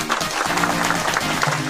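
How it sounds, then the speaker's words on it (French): A TV game show studio audience claps for a team's score, a short, dense burst of applause heard up close with a voice running through it. "On peut les applaudir."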